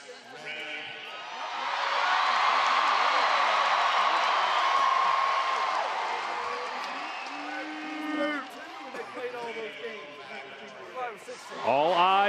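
Large crowd at a UNC NCAA championship celebration roaring and cheering for several seconds, then easing into scattered whoops and chatter before swelling again at the end, with voices heard close by.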